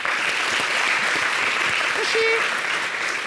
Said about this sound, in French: il faut applaudir les femmes d'abord